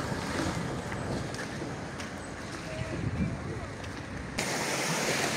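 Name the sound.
beach by the sea, wind and waves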